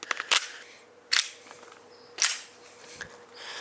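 A green gas airsoft Hi-Capa pistol fires BBs in three sharp, snappy pops about a second apart, close up, after a few quick mechanical clicks.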